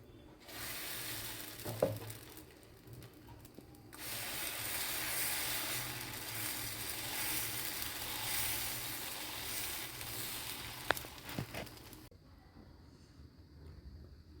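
A dosa (pesarattu) cooking on a hot pan, a quiet steady sizzle broken by a short silent gap and a few brief scraping clicks, ending in near silence.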